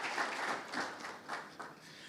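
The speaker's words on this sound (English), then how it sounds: "Once again, please, a round of applause for Brenda." An audience at an architecture awards ceremony applauds for Brenda, with a short wave of many hands clapping in a roomy space that swells and then fades slightly.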